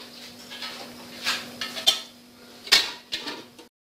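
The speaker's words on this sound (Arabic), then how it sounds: "من بعد ما صوبت الماء سخون غادي نغطي الطنجره ديالي." A metal cooking pot used for making set yogurt takes its lid, giving several sharp clinks and clatters, one louder knock near the end, against a faint steady hum in a quiet kitchen.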